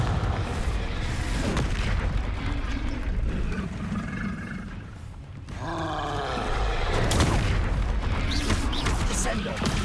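Confringo blasting spells from Hogwarts Legacy go off as booming explosions, with loud, dense game sound throughout and a brief lull near the middle before the blasts resume.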